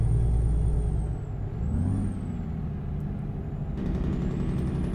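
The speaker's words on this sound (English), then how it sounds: "Oh, and we're hitting brakes going uphill." Air brakes hiss on a Ford LTL 9000 truck in American Truck Simulator, heard over steady engine rumble, with a brief release near the start and another burst toward the end.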